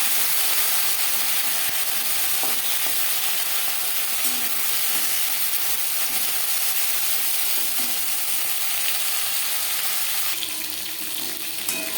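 Boal fish head fries in hot oil in a pan, a loud continuous hiss and crackle like running water that holds steady throughout, with a few faint clinks and no talking.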